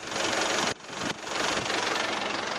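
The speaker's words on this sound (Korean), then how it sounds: "엔진 소음 먼저 들려드리면은" A SsangYong Korando Turismo 2.2 diesel engine idling with low mileage, a steady broadband rumble with faint knocking texture heard close up, briefly dipping twice before settling again.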